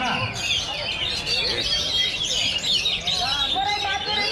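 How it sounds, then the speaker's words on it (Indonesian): Many songbirds, including magpie-robins and kacer, chirp and trill busily at once at a songbird contest, loud and continuous, with a crowd murmuring beneath the birdsong. "Murai Maturing Silver tidak naik ya?"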